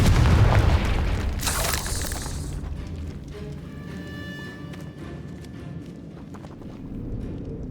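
Confringo spell explosion in Hogwarts Legacy inside a decayed catacomb, a loud booming blast at the start that fades into a rumbling, crackling tail.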